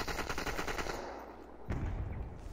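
Rapid automatic gunfire from the VR shooter Population: ONE crackles in a dense burst for over a second, then a single sharp shot cuts in near the end with a fainter rattle trailing behind.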